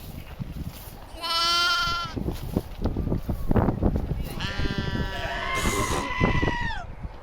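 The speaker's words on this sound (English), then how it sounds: "There's the famous video of the sheep getting stuck in the fence." A sheep caught in a fence bleats loudly twice, long wavering cries close by, with rustling and scuffling sounds between the calls.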